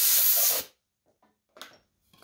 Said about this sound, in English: Spray some more of this down there.